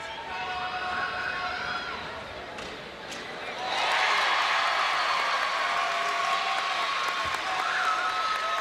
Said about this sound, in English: just listen to the crowd. They'll tell you if he makes it.